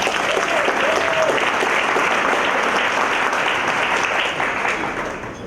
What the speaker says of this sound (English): You can clap for the 10th anniversary.